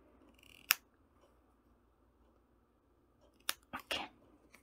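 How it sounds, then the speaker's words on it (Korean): Sharp scissors snip small holes through a folded double layer of fabric lining for a hexagon-motif shoulder bag: one crisp cut, a pause, then three quick snips close by in a quiet room. "여기에 가위로 뽕뽕 구멍을 뚫어줍니다."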